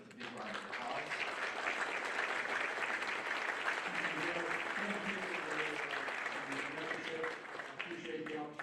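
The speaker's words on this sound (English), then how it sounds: "Let me invite our audience here to thank John Garamendi with a big round of applause." Audience applause at an annual arms control meeting on nuclear policy, sustained and steady from a full room for several seconds, with a speaking voice rising over it partway through.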